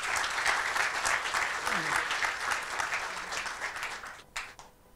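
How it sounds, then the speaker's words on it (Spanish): Hands clap in applause for Argentina at a Cinépolis corporate meeting, a busy ripple of claps from a gathered room that thins and fades out toward the end. "un aplauso para Argentina"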